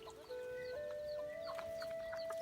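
Young hens cluck in short, soft bursts close by in grassy surroundings, with a steady thin tone running underneath.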